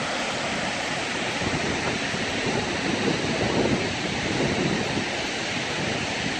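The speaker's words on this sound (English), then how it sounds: "This water gets filtered through these lava rocks and goes straight to a waterfall." Waterfall fed by clean water filtered through lava rocks in Iceland, a dense, steady roar of falling water with some wind buffeting, loud and continuous with no voices.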